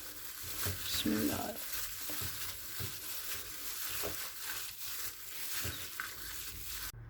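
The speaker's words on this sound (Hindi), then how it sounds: "अब हम इसे अच्छे से मिक्स कर लेते हैं।" Chicken marinade with coriander and mint is mixed thoroughly, giving a close, steady wet squelching and scraping texture with irregular soft bursts and no talk.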